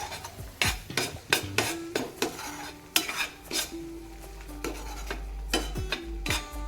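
Asafoetida and turmeric roasting in hot oil for a wet cashew curry, with a spatula scraping and clinking against the pan in irregular close strokes over a soft, steady sizzle.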